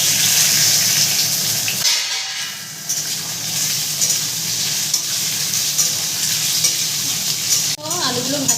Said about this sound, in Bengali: তো আলুগুলো ভাজা ভাজা হয়ে গেছে